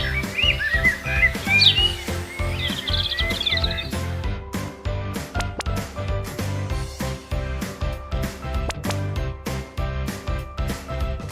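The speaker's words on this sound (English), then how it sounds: "Do you know what birdsong sounds like?" Birdsong with bright chirps and tweets rising over a cheerful children's music track in the first few seconds, then the music carries on alone with steady rhythmic beats.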